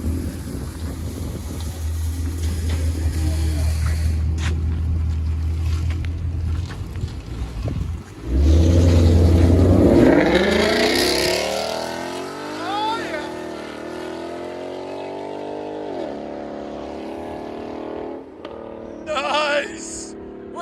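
A Ford Mustang GT with a 5.0 Coyote V8 idles with a deep rumble, then roars through a hard rev that sweeps upward and fades as the car pulls away, with people talking in the background.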